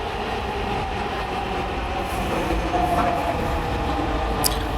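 A Dhaka metro train runs with a steady mechanical rumble and hum, a brief thin wheel squeal rising partway through.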